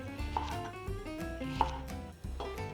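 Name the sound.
knife slicing green onion diagonally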